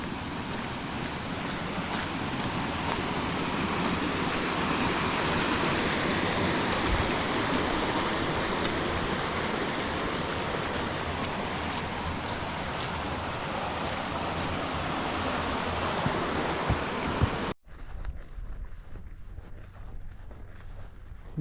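A stream of water flows steadily under a bridge on a coastal walk toward Land's End in Cornwall, a loud continuous rushing that holds for most of the stretch before cutting abruptly to a quieter, thinner flow.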